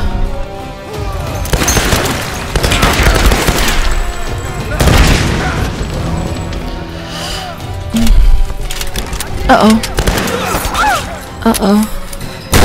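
Gunfire in the Tomb Raider game at a cliffside bunker, with bursts of sharp shots and booming impacts scattered throughout as a player keeps talking over the combat.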